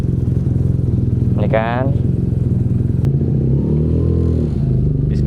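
A BMW motorcycle engine, left unused for a long time, runs at a steady, loud idle while warming up, with a brief rising rev and a sharp click; a person speaks briefly over it.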